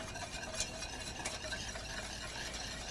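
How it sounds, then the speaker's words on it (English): Butter being whisked off the heat into a bourbon sauce for a New Orleans-style brioche casserole, a steady close scraping stir with a soft background hiss, continuous and without talk. "We're going to whisk that in."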